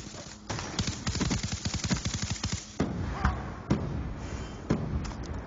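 Gunfire in the video game Black Ops 2: a rapid burst of automatic shots followed by several sharper single reports, loud and close, with game noise between them.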